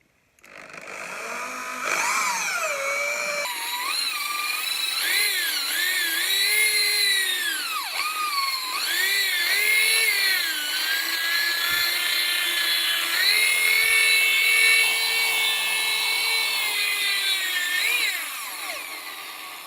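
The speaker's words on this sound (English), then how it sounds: "Where's my drill?" A high-pitched power drill with a polishing cone whines steadily for about twenty seconds, its pitch wavering and dipping as it presses and loads against a Ferrari split wheel, close up with no talking.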